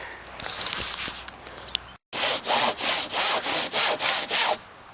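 Hand saw cutting through wood on the ground in steady, rhythmic back-and-forth strokes, loud and close, after a brief gap with rougher scraping, while building a debris hut.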